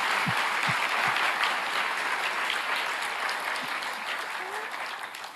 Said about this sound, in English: Can we have a round of applause for these generous donors?